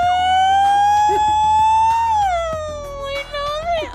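A person imitates a wailing police-style siren with their own voice, a loud sustained tone that holds steady, then dips and rises again over about four seconds, close to the mic with faint game sounds underneath.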